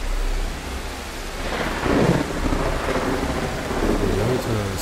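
Stormy weather in a Bigfoot horror video game: steady rainfall hissing throughout, with a rolling rumble of thunder swelling near the middle, no voices.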